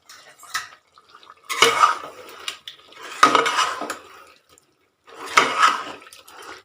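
Chicken curry in a pot being stirred with a metal spoon, producing three bursts of scraping and clinking against the pot separated by short pauses, close and fairly loud with no talk.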